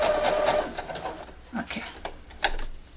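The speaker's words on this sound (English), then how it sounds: "I'm gonna put my foot down and I'm gonna do a straight line to the corner." Sewing machine stitching quilt binding in a straight line toward the corner, a soft quick mechanical whir with light clicks that fades into scattered handling knocks, fairly quiet.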